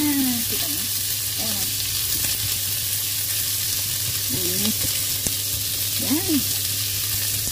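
Onions fry in a pan for Kapampangan kilayin, a steady loud sizzle with faint stirring, while a voice briefly speaks over it.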